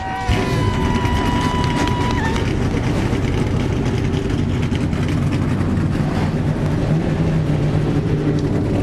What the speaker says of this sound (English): The engines are fired up.